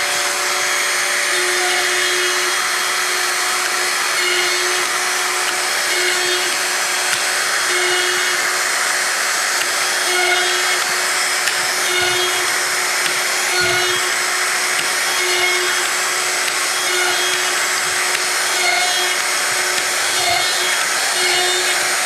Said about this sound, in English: Now I start the router and drill.